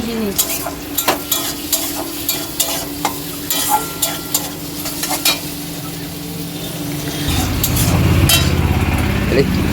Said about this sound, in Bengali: চিচিংয়ে ভাজছো